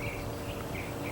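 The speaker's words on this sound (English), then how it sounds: "Hear the birds chirping." Birds chirp outdoors, with faint, repeated high calls over a steady background hiss of insects or crickets. No voices are heard.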